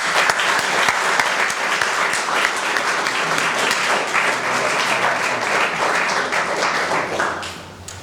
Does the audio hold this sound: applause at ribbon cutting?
yes